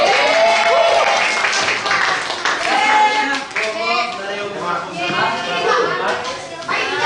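Applause for a presenter in a classroom microteaching session, with a brisk burst of clapping from a small group while a voice keeps talking over it.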